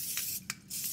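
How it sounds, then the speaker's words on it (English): Cooking spray hisses onto a 9x13 baking pan in a home kitchen in three short bursts, the last one longest, close and fairly loud, with no talking. "I have my, 9x13 pan, and I'm gonna spray this."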